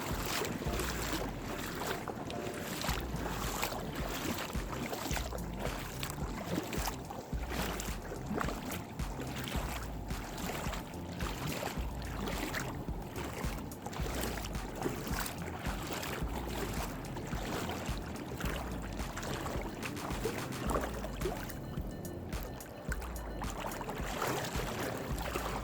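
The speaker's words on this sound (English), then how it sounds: "you have to walk back through the water, and I absolutely love this sound" Water sloshing and splashing steadily as someone wades through shallow sea water at a beach, with wind buffeting the microphone throughout.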